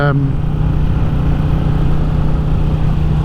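A Royal Enfield Classic 350 motorcycle cruising in fifth gear at about 50 mph and 3,500 revs on country lanes in Powys: a steady, loud, buzzing engine drone with a constant low hum, close and unbroken throughout.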